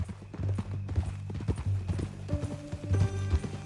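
Horse hooves clip-clop in a steady, fairly close rhythm on a ranch, with a low hum beneath and a few brief tonal sounds late on.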